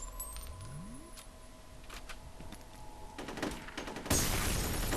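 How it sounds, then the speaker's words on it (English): Gunfire from the video game F.E.A.R., with scattered bursts of old-school weapon shots and metallic clatter that build toward a louder, denser stretch of shooting at the end. "It's like some real old school gun sound effects here."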